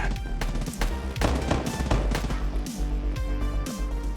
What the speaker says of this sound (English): I hear lots of gunfire over here.